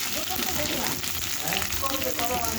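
Meat frying in a pan during a home cooking session, a steady close sizzle and crackle running continuously, with faint voices in the background.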